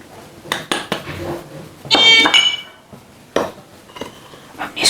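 A spoon scrapes and clinks against a bowl as a rice flour and cornflour batter is mixed, in uneven bursts of stirring, close and fairly loud, with no talk.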